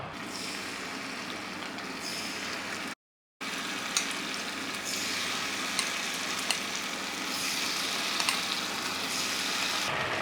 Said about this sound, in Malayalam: നമുക്കതിലോട്ട് ഓരോ കുഴിയിലോട്ടും മാവ് ഒഴിച്ചു കൊടുക്കാം.